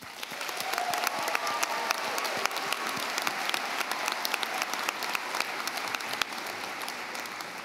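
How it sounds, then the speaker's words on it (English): A commencement audience at a 2017 graduation ceremony applauds graduates' families, sustained even clapping from a large crowd that spreads through a big hall, steady and unbroken with no voices. "Let's give them a well-deserved round of applause."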